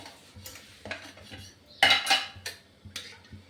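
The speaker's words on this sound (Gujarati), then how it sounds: "તો પહેલાં મેં પેન મૂકી દીધું છે." A metal pan set onto a stove and handled, giving a few distinct clanks and scrapes with one louder clatter in the middle, close and clear in a quiet kitchen.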